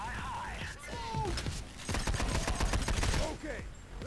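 Gunfire in the heist shooter video game Payday The Heist: rapid bursts of automatic shots and a dense flurry of shots near the middle, with voices and game sounds around them.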